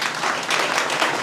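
A short burst of audience applause in a classroom-style gathering of police exam aspirants, dense, steady clapping heard for just over a second.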